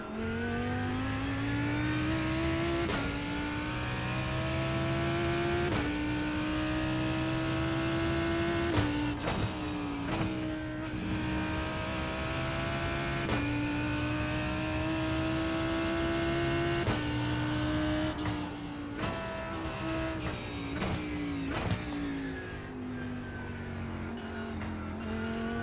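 GT3 race car on the Summit Point circuit in iRacing, engine revving hard and climbing through gears with repeated shifts and brief lifts, a loud continuous close-up drone over about twenty-five seconds.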